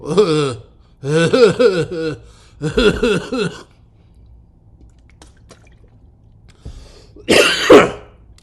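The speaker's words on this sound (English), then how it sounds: "Cough." Three harsh, voiced coughing or throat-clearing bursts come close together, followed by a pause and then a sharper, breathy cough.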